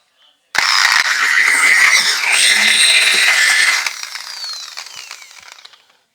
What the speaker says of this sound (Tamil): அதுக்கப்புறம் இந்த மாதிரி ஒரு ட்ரில் இருக்கும்.